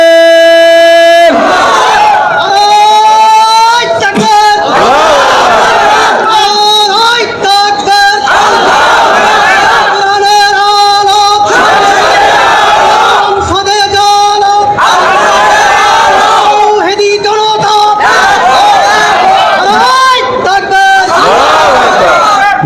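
At a religious gathering in Bangladesh, a large crowd chants the Allahu Akbar takbir response in loud, repeated unison shouts, with the preacher's amplified voice calling between the responses.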